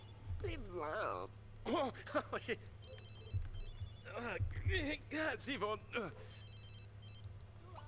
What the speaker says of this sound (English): Whose phone is ringing off the hook?